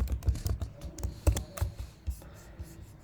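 Someone types code on a computer keyboard, producing a quick, irregular run of close key clicks and clacks that fades toward the end.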